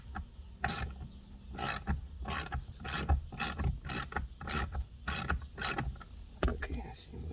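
A hand ratchet loosens a bolt on a Jeep XJ in a series of short, sharp clicking bursts at an uneven rhythm, close up and fairly quiet, with no talking.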